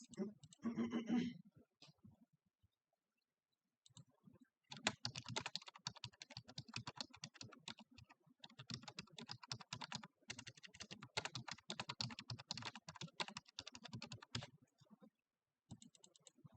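Rapid clicking of fingers typing on a computer keyboard, in steady bursts of keystrokes with a short pause near the start, close and moderately quiet with no voices.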